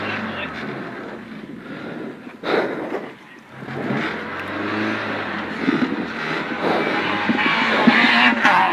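A rally car stuck at the Rallye de Saintonge spins its wheels in place, the engine revving hard in rising and falling surges with a loud, rough, sustained roar, while people shout nearby over the noise.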